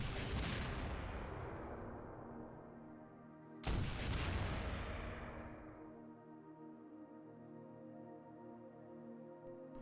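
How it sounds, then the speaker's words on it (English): Two big game explosions in Garry's Mod, a Molotov and then an RPG blast, each hit with a loud boom followed by a long rumbling decay, the second arriving a few seconds after the first. "We got the RPG explosion."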